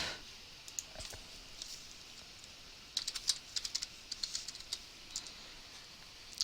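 Soft, quiet keystrokes tap on a computer keyboard in small irregular clusters, nearby but faint against a low background hiss.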